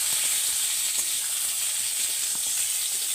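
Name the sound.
pointed gourd (potol) frying in oil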